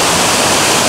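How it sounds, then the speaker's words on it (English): A creek runs strongly after heavy overnight rain, a dense, steady rushing roar of water filling the whole short moment, loud and close with no voices. "It's amazing how much water accumulates and goes down the creek after a big rain."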